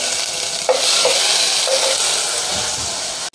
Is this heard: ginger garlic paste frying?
yes